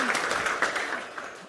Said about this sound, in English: Your round of applause